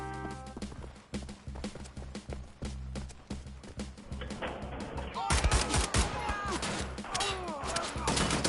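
Gunfire in the video game Wolfenstein: The New Order, rapid bursts of shots in a fast rhythm that grow louder and denser midway, mixed with other game effects.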